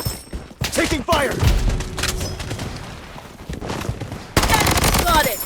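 Gunfire in the video game Blood Strike, in a PAYDAY mode match: bursts of rapid automatic shots with thuds and booms, near and loud, under brief game voice callouts.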